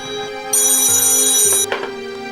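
A telephone rings with a bright electronic ringtone in a Hindi TV crime drama scene, a loud tonal trill that sounds for about a second and then stops, with no talking over it.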